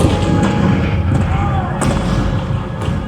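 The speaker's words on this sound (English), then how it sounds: "The cannons spoke for war." Booming cannon shots sound amid a dense roar of battle in a Disneyland Civil War show, with sharp blasts at intervals over a continuous heavy rumble.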